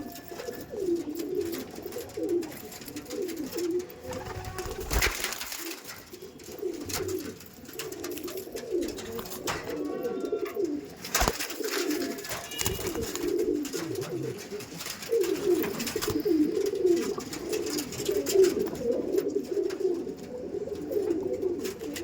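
Tournament-quality flying pigeons in a loft, cooing in continuous overlapping low warbling phrases, with a couple of brief sharp knocks partway through and no talk.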